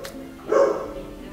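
A dog gives a single short, close bark that rises out of quiet household background noise.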